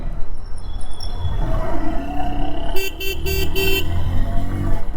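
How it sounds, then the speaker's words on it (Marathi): Busy morning rush-hour road traffic in Vadodara, India rumbles steadily nearby while a car horn honks in a quick series of short blasts partway through. "सकाळी सकाळी ट्रॅफिक बघा किती झालंय भरपूर ट्रॅफिक आहे"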